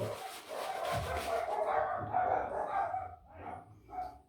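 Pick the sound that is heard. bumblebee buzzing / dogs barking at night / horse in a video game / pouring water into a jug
dogs barking at night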